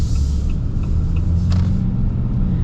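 A 2026 Ram 2500 Laramie with an inline-six diesel engine driving, a loud, steady low rumble heard from inside the cab, with faint ticking and a brief click partway through.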